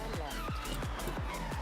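An off-road rally car skids in the Forza Horizon racing game, a continuous engine drone cut by repeated tire-scrub sweeps roughly every fifth of a second, loud and close, with a voice talking over it.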